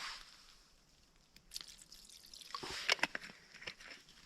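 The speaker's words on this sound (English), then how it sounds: "And I pour fuel into that." Liquid fuel poured into a homemade stove cut from the bottom of a V8 can, heard as quiet trickling and dripping that starts faint, then grows into brief splashy bursts, close up with no talk.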